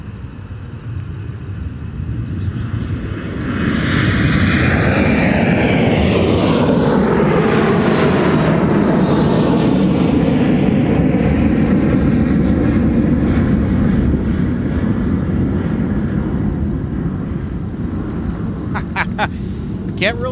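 Airliner departing and climbing out under a low cloud base at MSP, a jet roar swelling loud with a sweeping whine in the middle before fading off, voices talking faintly beneath.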